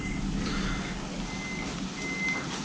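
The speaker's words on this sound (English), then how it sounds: "here comes the tow truck now" A tow truck arrives with reversing beeps sounding intermittently at a moderate distance over a low truck engine rumble and steady background noise.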